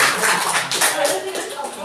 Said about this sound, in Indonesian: Bagus, beri tepuk tangan.